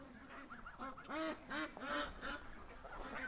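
A tiny black duck gives a quick run of nasal quacks, four or five short honking calls close by, fairly faint against a quiet background.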